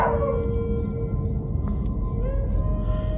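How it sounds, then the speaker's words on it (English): A wild dog howls outside a winter hot tent during freezing camping, a distant wavering cry rising and falling over low rumbling ambient noise. "Just hear that wild dog out there."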